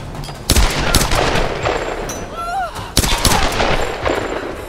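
Gunshots ring out in the Tomb Raider video game. Several sharp, loud reports land at irregular intervals over game ambience, with a voice sounding briefly between them.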